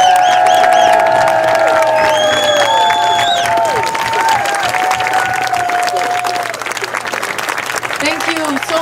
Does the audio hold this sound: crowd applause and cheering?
yes